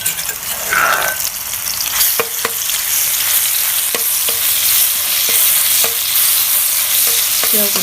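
Hot oil frying in a pan for a Thai stir-fry of napa cabbage with pork, a loud continuous sizzle broken by sharp spatula clicks and scrapes against the pan at irregular intervals.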